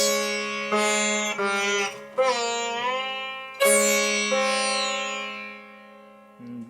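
A sitar plays a short phrase alone: plucked notes that bend upward and slide down, ringing with buzzy, shimmering resonance between strokes.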